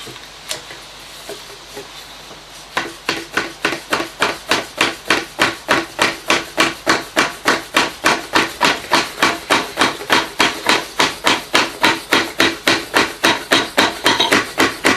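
Rapid, steady tapping on a PVC tube driving a Yamaha motorcycle fork seal into place, dozens of light regular knocks starting after a quiet moment and continuing close and evenly paced.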